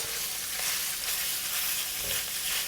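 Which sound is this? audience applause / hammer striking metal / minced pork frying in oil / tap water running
minced pork frying in oil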